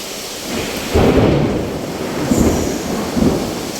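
Thunder rolls close by during a heavy rainstorm in Denizli, Turkey, deep rumbling swells rising and falling over steady rain noise, with several louder surges across the few seconds.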